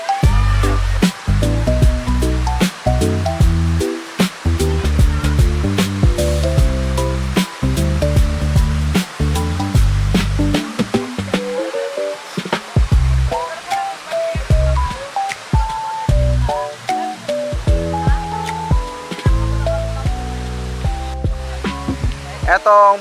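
Busay Falls, a three-tiered waterfall, roars loudly and constantly as broadband rushing water, heard up close from its second tier with people talking over it.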